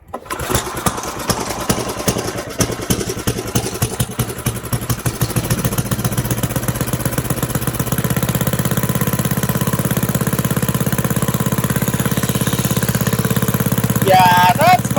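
A snowblower's small engine, left sitting all summer, sputters through a few uneven firing pulses, then catches and settles into a steady, rapid idle chug, loud and close, with a brief higher mechanical rattle near the end.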